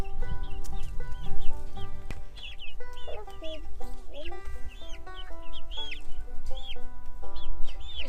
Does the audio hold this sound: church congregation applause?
no